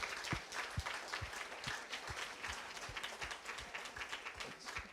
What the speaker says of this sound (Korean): 또 서로에게 축하의 박수로 우리 같이 함께하기 바랍니다